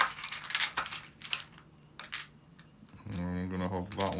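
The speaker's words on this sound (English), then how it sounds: "Give them a good shuffle. I'm giving them a good shuffle." Game cards for the Skies Above Britain air-combat board game are shuffled by hand, giving a series of light, crisp riffling clicks at close range, followed by a brief hum of voice near the end.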